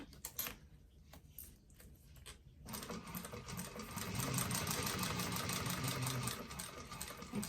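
A sewing machine stitches a bifold wallet seam at close range, first a few short stuttering bursts, then a fast continuous mechanical chatter that holds steady to the end.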